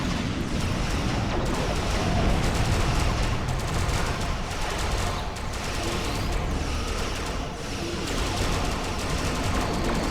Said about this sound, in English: Need to hit it with this high yield torpedo.